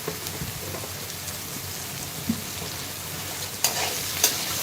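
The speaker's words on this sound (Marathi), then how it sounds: "आता छान परतलेलं आहे सगळं" A poha mixture with tomato and a little sugar sizzles continuously as it is stirred and sautéed in a pan, with a few sharper spoon scrapes standing out.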